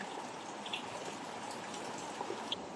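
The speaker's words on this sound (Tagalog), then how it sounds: "Ayan, malakas-lakas pa rin ng ulan." Heavy rain pours down in a dense, steady hiss, with occasional louder drips standing out against the constant roar.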